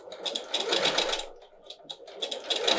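A sewing machine stitches a fabric clutch made from scraps, running in two loud bursts of rapid, even needle chatter separated by a short pause, close up with no talking.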